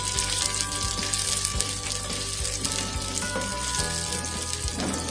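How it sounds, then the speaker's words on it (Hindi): Chopped onions fry in a pan for bhuna chicken, a loud, close, continuous sizzle with occasional stirring scrapes and no talk. "प्याज को गोल्डन ब्राउन होने तक पकाएं"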